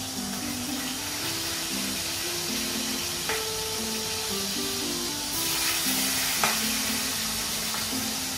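Pork steak fries in a pan with a steady, bright sizzling hiss that swells louder partway through, while a soft tune plays underneath.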